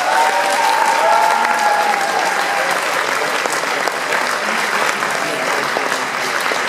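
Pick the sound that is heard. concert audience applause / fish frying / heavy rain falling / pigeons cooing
concert audience applause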